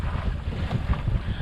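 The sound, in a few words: sailboat sailing in wind off coast of Maine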